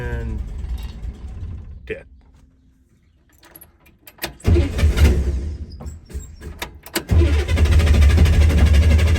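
A Corsa car engine cranks after a quiet pause, catches and fires up into a loud, rough running idle close by, with a key rattle and a brief voice earlier.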